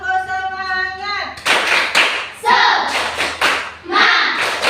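Schoolchildren at an elementary school perform a rhythmic group clap, a burst of sharp, loud claps in quick patterned beats after a brief tonal intro, with voices chanting over the clapping.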